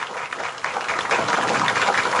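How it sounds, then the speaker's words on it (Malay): Audience applause at a religious forum, a dense burst of many people clapping together that swells and stays loud, with no voices over it. "Tepukan gemuruh bagi mereka."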